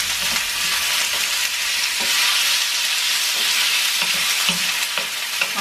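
Small pieces of chopped beef fry in a hot pan, giving a loud, steady sizzle with occasional soft stirring knocks, close by and with no talking.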